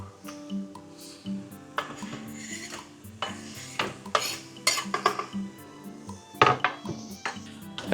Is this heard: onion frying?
yes